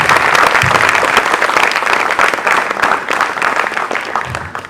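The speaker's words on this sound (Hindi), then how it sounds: "तो कर दो तालियों की बरसात मेरी इन माताओं के नाम।" An audience applauds mothers with loud, steady clapping that fills the whole stretch, dense and continuous, with a faint voice briefly under the noise.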